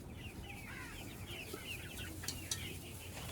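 Fairly large chickens cluck softly nearby in short, irregular calls over a low background murmur, with a couple of brief sharper clicks.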